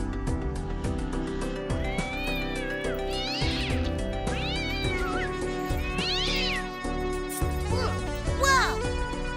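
A male cat meows repeatedly indoors over steady background music, several drawn-out rising and falling cries spaced through the stretch, fairly close.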